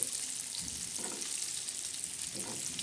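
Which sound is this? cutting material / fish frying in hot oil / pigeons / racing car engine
fish frying in hot oil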